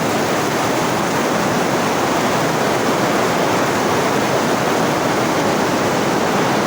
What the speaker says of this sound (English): Water is running.